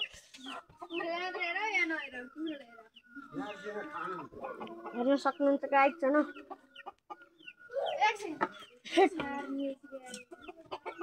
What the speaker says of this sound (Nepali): यता हेर्न सक्नुहुन्छ गाइस यो कुखुरालाई हेर्ने